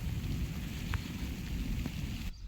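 Steady rain pours down over open farm fields, a dense continuous hiss close by, with a faint distant rumble, then stops abruptly near the end.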